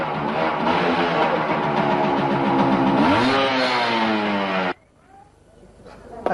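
A motorcycle being ridden, its engine loud and close, droning steadily and then revving upward before abruptly cutting away to near quiet.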